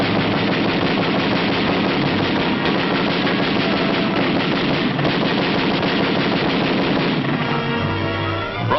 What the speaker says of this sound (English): Following in the wake of the artillery barrage, jungle fighters press forward, wiping out snipers and enemy pillboxes one by one.